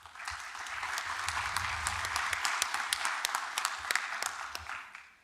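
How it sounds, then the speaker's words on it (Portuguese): An audience at a national arbitration conference applauds steadily, a dense wash of many hands clapping that holds for about five seconds before tapering off at the end. "Uma salva de palmas"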